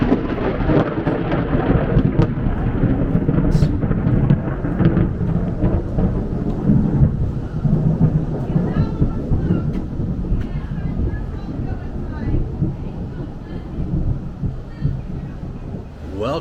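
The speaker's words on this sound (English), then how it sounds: "Welcome to lightning in South Florida." Heavy rolling thunder from a South Florida lightning storm rumbles continuously and loudly, with rain noise mixed in throughout.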